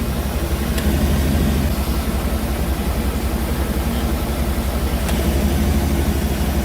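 Engine of an 88-98 Chevy C/K 1500 pickup idling steadily with a low rumble and hiss, loud and close, with faint clicks as the AC compressor clutch engages.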